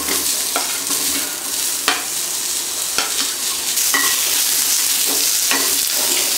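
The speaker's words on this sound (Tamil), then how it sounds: "அப்புறம் இதில் வெங்காயம் போட்டுக்கலாம்." Onions frying in a pan for tomato onion chutney, a steady close sizzle throughout with periodic scraping clicks of a spoon stirring them.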